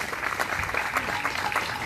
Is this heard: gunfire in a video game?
no